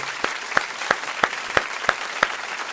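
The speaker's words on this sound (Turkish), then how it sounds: "Alkış hak etti." Slow, evenly spaced claps from what sounds like one or two people at a Marmaris snack bar serving wet hamburgers, about seven sharp hits over a low background murmur.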